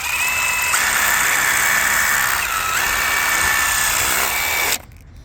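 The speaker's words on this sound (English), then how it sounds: "You just fucking drilled all your threads out." A power drill runs continuously at close range while drilling out threads during a tile repair, its whine shifting pitch a few times before cutting off abruptly near the end.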